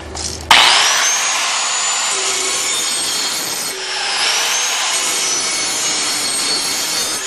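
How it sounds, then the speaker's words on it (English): A grinder wheel sharpens a Briggs and Stratton mower blade still on the mower, opening with a sharp bite and then making a loud, continuous abrasive rasping whine that eases slightly once in the middle. "If you hold the grinder on the blade like this and stroke it with the back side of the wheel"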